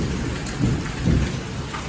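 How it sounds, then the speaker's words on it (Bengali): Heavy monsoon rain pours down outside near a river in a dense, continuous roar, with low rumbles swelling underneath. "ভীষণ বৃষ্টি হচ্ছে বাইরে প্রচণ্ড বৃষ্টি একদম মুসুলধারায় বৃষ্টি হচ্ছে বাইরে"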